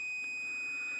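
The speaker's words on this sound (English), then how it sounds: "I'll just put it onto continuity, should beep" A steady, faint high electronic beep from a multimeter in continuity mode, tested across a Mountfield SP164 lawnmower ignition coil to check its earth connection; one sustained tone lasting about a second.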